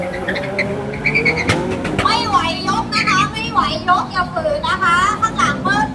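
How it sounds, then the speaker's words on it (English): A taxi car drag racing at a Thai car festival, its engine revving and roaring with tire squeal in a loud, rising burst, while voices talk over the noise. "But tonight, he's here drag racing at Connection Thailand."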